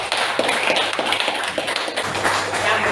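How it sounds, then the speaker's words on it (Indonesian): Schoolchildren in a junior high classroom clap in a quick, uneven patter of many hands, moderately loud and continuous for a few seconds. "tepuk tangan untuk Satria."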